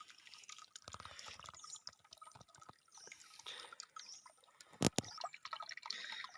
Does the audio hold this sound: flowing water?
yes